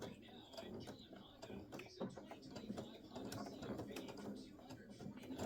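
A home embroidery sewing machine stitching a quilted pot holder with binding, giving rapid mechanical clicking and whirring close up while a person talks over it.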